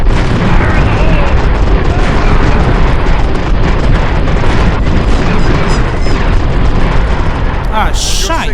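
Explosions from the real-time strategy game Empire Earth 2, set at the 1898 battle of San Juan Hill, boom continuously and loudly amid dense battle noise, with unit voice lines spoken over the din.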